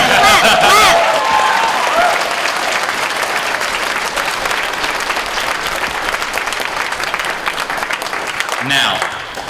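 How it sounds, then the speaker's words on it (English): A packed convention panel crowd at Bronycon 2015 breaks into loud, sustained applause that rolls on steadily for several seconds before tapering, with voices mixed in near the end. "Go ahead and clap, yes. Yeah, clap."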